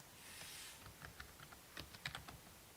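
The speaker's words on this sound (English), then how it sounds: "I'm typing." Quiet tapping on a computer keyboard, a scattered run of soft keystrokes bunching into a quicker burst near the end, faint and without talk.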